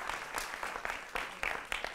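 Steady applause from a television studio audience, a dense continuous patter of many hands clapping, moderately loud and sustained throughout.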